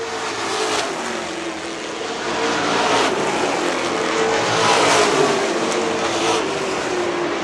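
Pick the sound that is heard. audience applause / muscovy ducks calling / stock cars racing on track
stock cars racing on track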